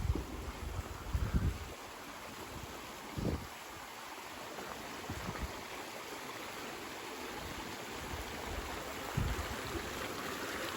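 Water runs steadily at a stream crossing on the North Country Trail in summer, a constant broad rush with light wind buffeting the microphone and a few low thumps, no talk.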